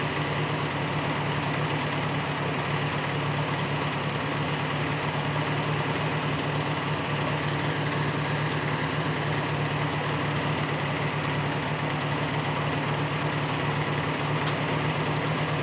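A Select-O-Speed tractor engine idles steadily after a repair, a continuous loud rumbling drone heard up close with no break and no talking over it.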